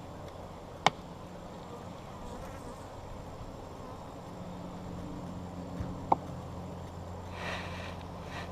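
Honey bees hum in a steady, low, continuous drone during a smokeless hive inspection, with a couple of sharp wooden clicks from frames.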